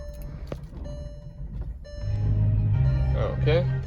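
A Porsche Cayenne is started at close range: a brief starter crank leads into a steady idle rumble that swells after about two seconds, with someone speaking briefly over it.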